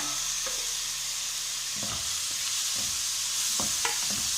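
Green chillies and tomatoes sizzle with fried onions in a pan, giving a constant close hiss punctuated by several spoon scrapes and stirring knocks, with no speech.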